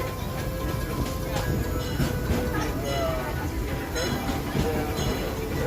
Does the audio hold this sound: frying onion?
no